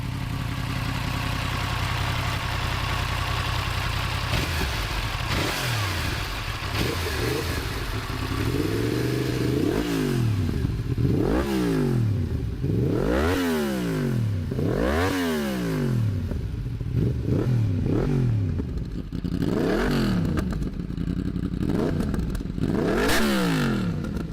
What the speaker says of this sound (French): on en a profité pour vous faire un comparatif du son de l'échappement Spark et du SC Project